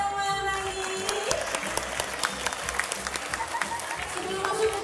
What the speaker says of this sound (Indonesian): Tepuk tangan yang mana nih?